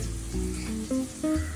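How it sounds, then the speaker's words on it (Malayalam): Curry leaves, green chilies and garlic fry in oil for a garlic upma, a soft sizzle under a few short tonal clinks and bumps from the pan. "ഇലയും പച്ചമുളകും വെളുത്തുള്ളി ഇട്ട് എണ്ണയ്ക്ക് ഇട്ടുണ്ട്."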